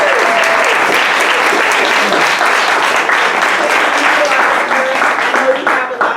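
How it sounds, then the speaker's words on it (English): Sustained audience applause at a community anniversary celebration in Marina, California, steady and dense throughout, tapering slightly near the end, with faint voices mixed into the crowd noise. "I want to give Ms. Tanya another round of applause."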